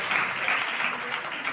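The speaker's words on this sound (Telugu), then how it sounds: "చప్పట్లు సోదరులు" Audience applause at a Sunday church sermon, a steady wash of clapping from a crowd that holds evenly through the short stretch with no voices on top.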